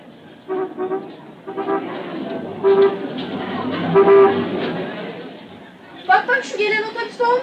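A bus pulls into a bus station in a radio drama, its horn tooting repeatedly in short bursts over engine and crowd chatter, with a louder sequence of honks near the end.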